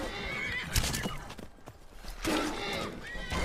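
Horse in the video game Skyrim whinnying loudly twice, with clip-clop hoof steps and game noise around the calls and a short quieter gap between them.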